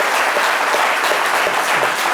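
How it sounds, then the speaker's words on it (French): Sustained applause from an audience honouring deceased artists at a Côte d'Ivoire artists' union gathering, dense steady clapping with no voices over it. "on va faire une minute d'applaudissements"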